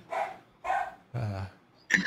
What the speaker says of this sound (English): I hope my dog is not deafening you all.